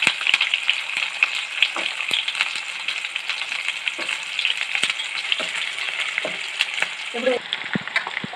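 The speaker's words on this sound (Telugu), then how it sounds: "ఇప్పుడు ఉల్లిపాయ కూడా వేసుకుంటున్నాం." Onions frying in hot oil with curry leaves and green chillies for a ridge gourd curry, giving a bright, continuous sizzle up close with occasional ticks and light scrapes of stirring.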